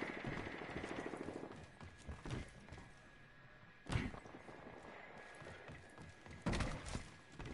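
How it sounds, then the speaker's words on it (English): Faint, distant gunfire from the video game Apex Legends, with occasional sharper bursts over a steady low background of game noise and mechanical sounds. "I hear gunfire."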